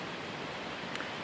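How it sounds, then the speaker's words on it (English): A river runs near a backpacking campsite in the woods, giving a steady, even broadband rush of moving water heard alone from a short distance, with a brief faint rustle near the end. "you can hear the river in the background"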